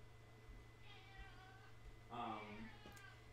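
A cat meows a few times at moderate distance, the calls rising and falling over a steady low hum, with people talking nearby.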